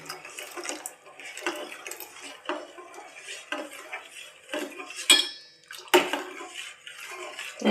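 Milk simmering on low heat for watermelon ice cream while a utensil stirs the pot, irregular clinks and scrapes against the metal with liquid swishing, fairly close and no talk.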